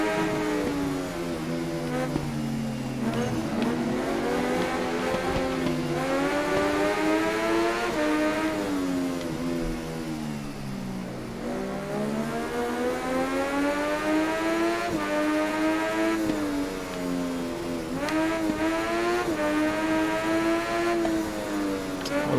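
A motorcycle engine screams around the Nordschleife in the racing game Ride 3, revs climbing and falling through repeated gear changes and throttle shifts, loud and close for the whole stretch.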